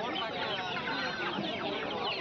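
Many chickens cluck and squawk at a country poultry market with Kadaknath birds and ducks for sale, a dense, continuous clamour of overlapping calls, fairly near, with faint voices mixed in.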